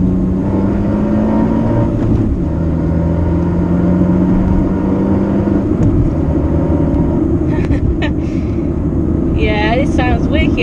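A Fiat Panda with an Abarth Monza exhaust revs and accelerates with a throaty exhaust note, loud and steady throughout, with road noise and a brief burst of chirps near the end.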